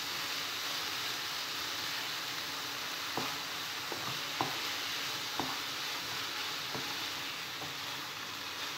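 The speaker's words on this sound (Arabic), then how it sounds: "On les fait revenir un petit moment, 2 à 3 minutes, nos lardinettes" Lardons sauté with onions in a pan for tartiflette, giving a soft, even background sizzle broken by a few light scrapes of a utensil; no one speaks.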